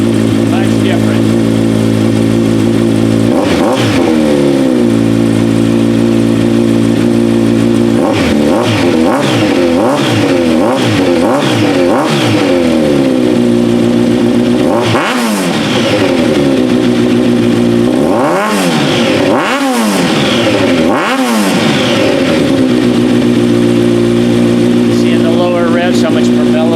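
Kawasaki Z900RS Cafe motorcycle fitted with a Black Widow exhaust, started and blipped through a run of sharp throttle revs that rise and fall over a steady idle, close and loud, with someone talking at times.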